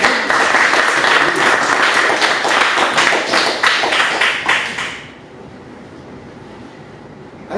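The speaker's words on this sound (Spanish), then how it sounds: "Por favor, un aplauso para él" An audience claps loudly and continuously for a few seconds at a Sinaloa history talk, then the applause drops away abruptly into near quiet.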